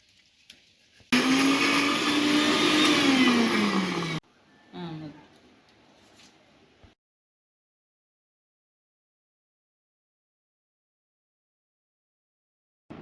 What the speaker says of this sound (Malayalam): വെളുത്തുള്ളി ഇഞ്ചി ഓക്കെ അരച്ചെടുക്കും